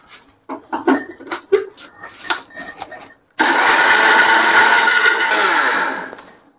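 Mixer grinder jar grinding spices into sambar powder, starting abruptly as a loud, dense whirring roar that runs steadily for about three seconds before cutting off, preceded by clinks and handling knocks.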